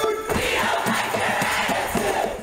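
Protesters at a budget-season rally in Trenton, a coalition of progressives and labor union members, cheer and shout together in a loud, continuous crowd roar with rising whoops.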